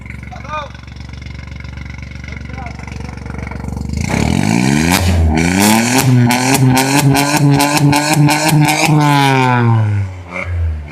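A Toyota Fortuner fitted with an aftermarket silencer and 22-inch alloy wheels idles, then is revved hard in repeated loud bursts that rise and fall before settling, close by, with people talking over the engine.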